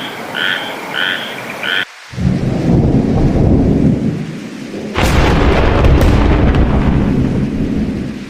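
Thunder cracks and rumbles loudly through steady heavy rain, with frog croaks at the start and a sharp burst of thunder midway, for a horror story at night.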